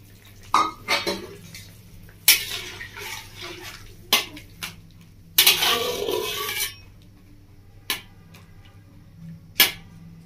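Spoon scraping and clattering against a cooking pan while mustard and spices are stirred into a drumstick curry, a series of sharp metallic clinks and a longer burst of scraping, with no voices.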